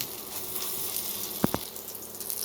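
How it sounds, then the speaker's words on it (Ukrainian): Yeast potato pancakes (deruny) fry in a skillet with a steady hiss of oil. Midway, two quick soft knocks break in, like the pan or spatula being handled. "обсмажуємо з обох сторін"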